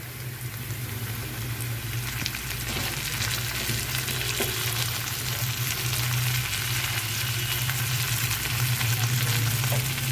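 Chopped tomato added to onions frying in a pan for paneer masala, a steady close sizzle with a low steady hum underneath and faint stirring scrapes.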